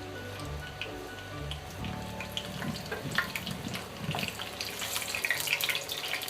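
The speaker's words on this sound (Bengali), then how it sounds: "মরিচটা তো ধুয়ে নিয়েছি, এই জন্য ছিটতেছে" Two washed whole chillies dropped into hot oil for tempering a sweet-sour pumpkin curry: fizzy crackling spatter that builds and grows louder and busier toward the end, close up.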